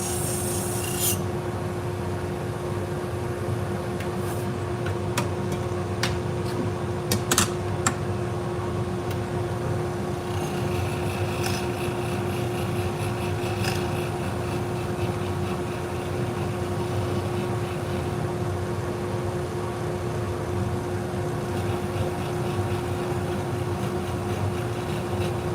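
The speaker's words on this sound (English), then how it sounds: "Kind of polishing up the back of this shear." A sharpening machine polishing the back of a pair of salon shears gives a steady, even hum with a continuous rubbing rasp, holding level and close for the whole stretch, with a few brief scrapes early on.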